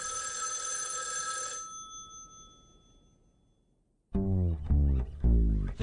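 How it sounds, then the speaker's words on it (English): A telephone bell rings with a bright, sustained metallic trill in a radio drama, cuts off, fades through a quiet pause into near silence, and is followed by a voice beginning to speak. "5 minutes later, the phone rang."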